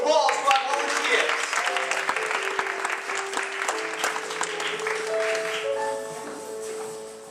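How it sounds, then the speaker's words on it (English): Theatre audience at a school performance of Clue: The Musical claps steadily for stage volunteers, a dense moderate applause over sustained musical notes that gradually fades. "Let's give a round of applause to our volunteers."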